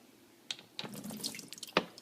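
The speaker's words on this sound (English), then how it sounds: "Pump it into the sink." Water from the drip tray of a Miele coffee machine splashes into a sink in a few short spills and drips, close and fairly quiet, with no speech.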